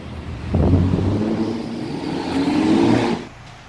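An MCI D4500 bus conversion pulls away. Its big engine rumbles up loud and close, rising in pitch as it accelerates, holds a steady drone, then drops off abruptly.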